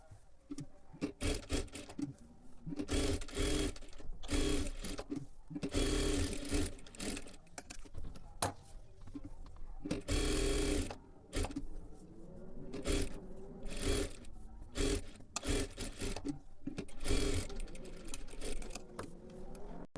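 Sewing machine stitching the lining of a matka-neck blouse, running in repeated bursts of whirring stitches separated by short pauses throughout.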